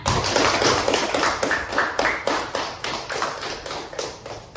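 Classroom applause: students clap together in a fast, fairly regular rhythm, close and loud, with a little shuffling and no talking.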